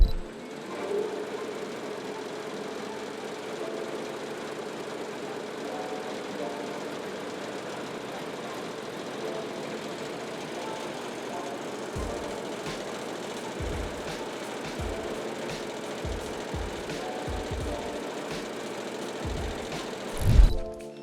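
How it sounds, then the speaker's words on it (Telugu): Imported quilting machine stitching an 8-inch luxury latex mattress, a steady mechanical whir with rhythmic thumping that runs throughout, joined by low knocks in the second half and a louder burst near the end. "ఇదిగోండి, ఇది కుల్టింగ్ మిషన్ అనమాట. ఇది అవుట్ ఆఫ్ కంట్రీ మిషన్స్ అండి"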